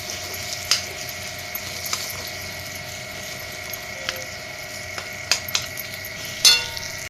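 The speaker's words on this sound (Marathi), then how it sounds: "ह्या साजूक तुपामध्ये आपला हा खजूर हा छानपैकी मऊ होईपर्यंत भाजून घ्यायचा" Soft dates roasting in homemade ghee in a pan for quick Navratri fasting laddoos give a steady, close, low sizzle, with a few light clicks and scrapes of stirring now and then.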